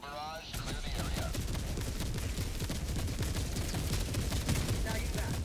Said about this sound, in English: Orbital Gatling barrage coming in.